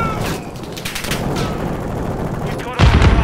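Gunfire in the Call of Duty: Modern Warfare II beta, a loud, dense stream of rapid shots with a heavier burst near the end.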